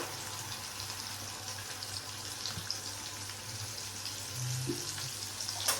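Prawns coated in turmeric and salt frying in hot oil, giving a steady, fairly quiet sizzle with a low hum underneath and a few slightly louder bursts near the end.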